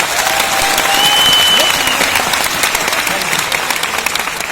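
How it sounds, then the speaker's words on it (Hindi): An audience at a success seminar in Noida applauds to welcome first-time attendees, a dense, steady wash of clapping that fills the whole stretch, loud and close, with a faint voice briefly audible above it. "एक बार तालियों से स्वागत कर दीजिए।"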